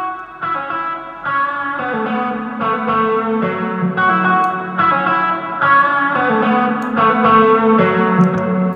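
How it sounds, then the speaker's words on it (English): A soloed electric guitar track in Logic Pro X with volume automation, playing a sequence of effected, slightly distorted notes and chords at a steady level, alone with no talking. "let's hear what that sounds like if I just solo the guitar"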